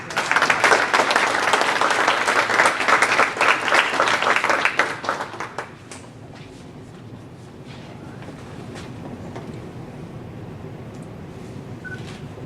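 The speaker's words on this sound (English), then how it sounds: "So let's give a round of applause" Loud applause from an audience at a March for Babies awards ceremony in Alachua, dense clapping for about five seconds before fading to quiet room noise.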